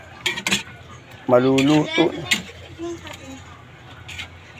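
Metal utensils clink and tap against a pan as pork and bitter gourd (ampalaya) are stirred, a few scattered hits heard close by while someone talks over them.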